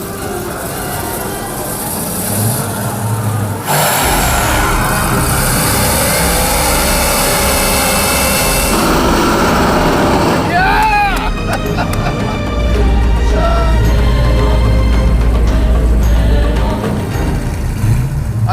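Worn-out Dodge Challenger drag racing at Roadkill Nights, a loud sustained engine roar that shifts in pitch and intensity, with crowd and track noise around it.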